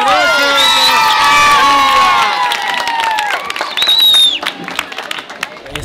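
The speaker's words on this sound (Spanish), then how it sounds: "¡un aplauso!" Crowd at a new school opening bursting into loud cheering and applause, with children shouting and whooping over steady clapping, high excited voices rising and falling throughout.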